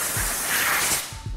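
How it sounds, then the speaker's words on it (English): A close, loud blast of compressed air hisses across an electronic component for about a second, then drops back in short bursts with light handling thumps and no talk. "blast the shit out of it with compressed air"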